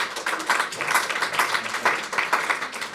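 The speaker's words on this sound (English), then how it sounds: "let's give those speakers an especially big round of applause" A conference audience applauds the speakers after a series of talks, a moderately loud, rippling round of clapping with individual claps standing out, continuing steadily without speech.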